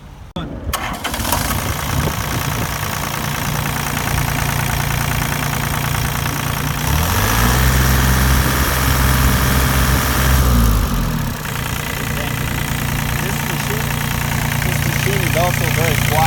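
A Komatsu PC35 mini excavator engine starting and running, a steady close diesel drone with a brief change in pitch midway, with someone talking over it.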